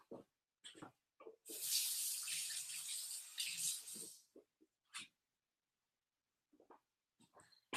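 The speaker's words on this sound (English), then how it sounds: "And I'm just going to rinse this again." Tap water runs for a few seconds as something is rinsed under it at a kitchen sink, a fairly close hiss and splash set between short intermittent sounds before and after.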